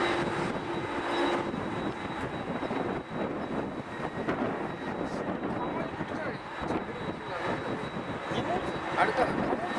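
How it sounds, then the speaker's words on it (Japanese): Passenger jet airliner at Narita International Airport on a windy winter day, a steady broad engine roar holding loud throughout, with faint voices talking underneath. "これ違いますね。旅客機ですね。"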